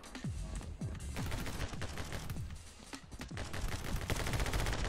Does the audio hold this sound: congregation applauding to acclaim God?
no